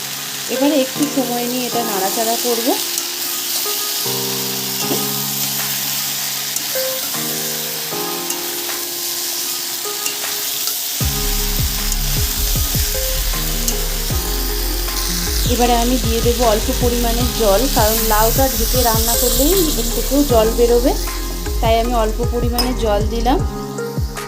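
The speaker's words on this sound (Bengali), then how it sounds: "এবারে আমি মশলাগুলোর সাথে লাউ আর আলুটাকে খুব ভালোভাবে মিশিয়ে নেব" Bottle gourd and potato stir-fried with spices in a pan for a bottle gourd and prawn curry, a steady sizzle with scraping stirs and light utensil clinks, growing fuller and louder in the second half, with a low background tone throughout.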